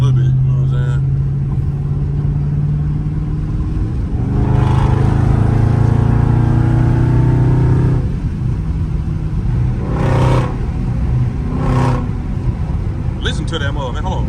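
A Dodge Scat Pack with a Corsa Extreme exhaust drives through city streets, its deep, loud rumbling drone rising in brief revs, while people talk over it.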